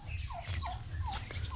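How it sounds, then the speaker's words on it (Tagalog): Several turkeys gobble in short warbling bursts, three or four calls spread across the moment over a low steady background rumble. "Tignan nyo naman tong mga pabo natin."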